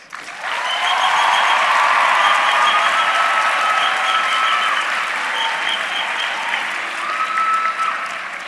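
A large audience at a university autumn graduation ceremony applauds Professor Lloyd and the graduates, a broad, even wash of clapping that swells in and carries on steadily for several seconds.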